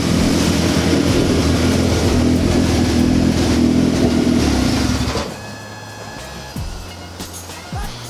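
A Mazda Miata drift car's engine drones loud and steady at idle up close, then cuts off abruptly, leaving quiet with a few faint clicks and knocks.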